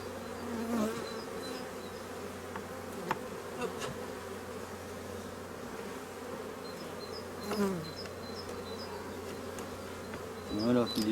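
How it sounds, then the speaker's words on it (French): Honeybees drone in an opened hive during a floor-board replacement, a soft, continuous buzz close by with a few light knocks and handling noises. "on peut voir les abeilles en dessous"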